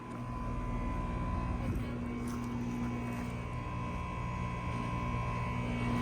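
A 2005 4-ton Carrier air conditioner compressor running outdoors, giving a steady, loud mechanical hum with a constant drone throughout, no pauses or talk.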